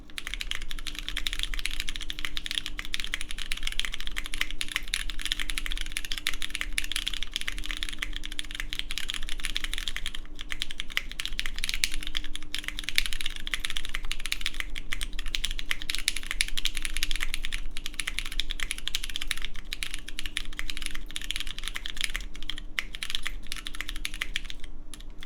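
Steady, continuous typing on a Machina Cloudnine R2 mechanical keyboard in a full copper case. Dense, close key clacks fill about 25 seconds with a slight echo and no voices.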